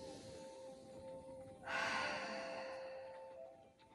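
One deep breath taken during a kneeling stretch: a soft airy inhale swells into a long, slowly fading exhale, close and quiet over a faint steady hum.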